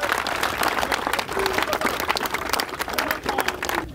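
Church congregation clapping and cheering in praise, a dense, sustained round of applause with scattered voices calling out underneath.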